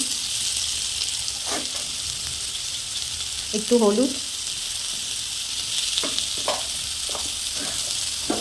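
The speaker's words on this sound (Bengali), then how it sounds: "চলো আলুটাকে একটু ভাজা ভাজা হতে দিই" Potatoes hissing as they fry in a pan, a constant sizzle with a brief spoken remark and a few soft stirring scrapes.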